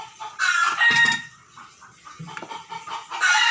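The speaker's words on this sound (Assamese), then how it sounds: "মুৰ্গীৰ উৎপাত শুনিছে নাই আমাৰ ঘৰত?" Chickens clucking and a rooster crowing in a backyard behind a house, several loud overlapping calls and bursts near and mid-distance with short pauses between.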